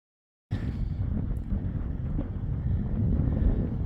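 Steady, blustery wind buffeting the microphone on the summit of Killington Peak, Vermont, a low roaring rumble that starts abruptly and continues without a break, with no voices.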